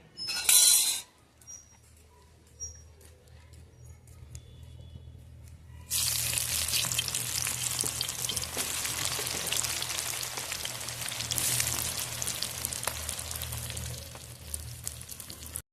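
Meat curry fries on a home clay stove, a bright, steady sizzle that starts suddenly after a quiet stretch and continues loud and close, with a few faint clinks beforehand.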